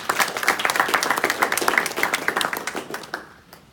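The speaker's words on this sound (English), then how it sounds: "I would like to start a round of applause" Graduation ceremony audience applause for a master's program, with crisp, closely spaced claps from a crowd, loud and sustained before tapering off near the end.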